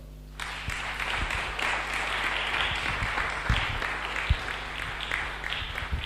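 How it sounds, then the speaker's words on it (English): Congregation clapping together in worship, a dense, steady wash of many hands that starts abruptly and carries evenly throughout, with a few louder thumps and faint voices mixed in. "Let's give a clap offering to the Lord."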